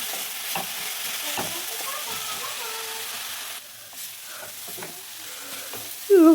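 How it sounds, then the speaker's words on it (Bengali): Bottle gourd leaves being fried dry in a pan and stirred, a steady close sizzle with occasional scraping stir strokes, dropping slightly partway through before a short louder clatter at the end. "ভালো করে ভেজে শুকিয়ে নিচ্ছি যাতে জল জল ভাবটা না আসে"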